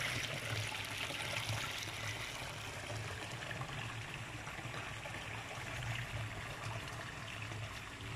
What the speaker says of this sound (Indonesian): Ini airnya dari sungai Tondulu.